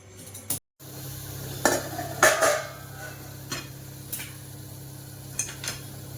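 A spoon scrapes and clinks in a pot while rava laddu mixture with sugar is stirred, a few sparse knocks and scrapes over a low steady hum, fairly close and modest in volume.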